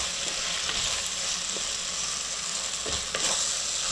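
Softening potato pieces salted and given a quick mix in a hot pan, a continuous loud sizzle of frying with a few soft scraping stir strokes, no voices.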